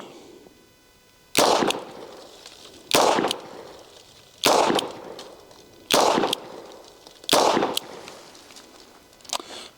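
Five sharp, loud shots from a Smith & Wesson 360 PD .357 Magnum revolver firing wadcutters at a range, evenly spaced about 1.5 seconds apart, each with a brief ringing decay.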